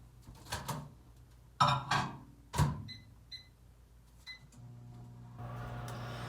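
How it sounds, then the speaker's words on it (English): Clicks and thumps of a microwave door and buttons, a few short electronic beeps, then the low steady hum of the oven starting to run as it melts butter. "I'm just going to zap this in the microwave for about 15 seconds"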